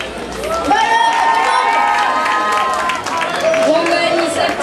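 An audience at a Soirée Nana stage show claps and cheers for performers, sustained close applause with shouts and children's voices mixed into the crowd noise, with talking through it.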